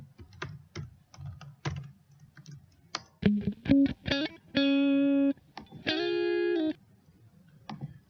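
Short clean electric guitar sample played back in MATLAB: a run of quick plucked notes, then a few sustained ringing notes near the end, alone, no talking.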